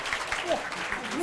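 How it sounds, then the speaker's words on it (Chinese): Audience applause welcomes a speaker at the COSCUP 2011 open-source conference, a brief patter of clapping from the room with a voice talking over it. "那我们掌声欢迎一下伊玛猫"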